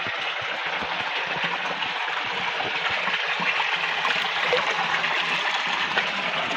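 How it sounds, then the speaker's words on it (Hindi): Clear mountain water pours and splashes over stones in a steady, continuous rush, close and fairly loud, with no voices over it. "ये देखो इधर से पानी निकल रहा है"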